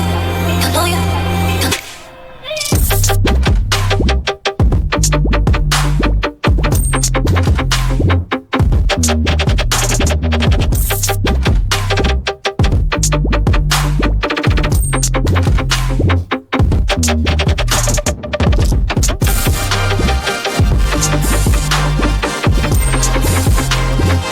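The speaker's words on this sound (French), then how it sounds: "c'est un son de trap mais plus mélodique" A melodic trap track plays loudly, with deep pulsing bass, punchy drums and layered synth melodies, and a short drop near the start before the full beat returns.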